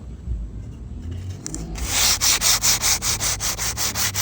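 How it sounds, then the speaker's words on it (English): Hand sanding of a wooden rocking chair with 120-grit sandpaper, starting with light scuffs, then settling into a loud, close, rhythmic rasp of quick back-and-forth strokes. "I'm going to sand all of them down,"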